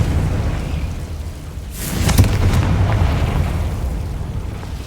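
A Confringo spell explosion in Hogwarts Legacy bursts out as a single loud, roaring blast midway, rising sharply over steady background rumble and fading over a couple of seconds.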